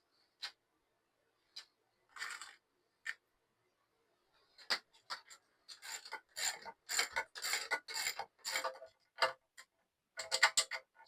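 Bolts being fitted beside a stock Honda Civic radiator, heard as scattered metallic ticks, raspy turns and short clicks that come faster and denser toward the end, close by, with no speech.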